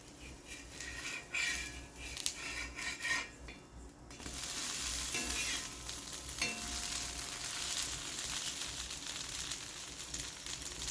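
A millet dosa sizzles steadily on a hot pan with a little oil, with a soft scrape near the start as it is turned, then a continuous close frying hiss.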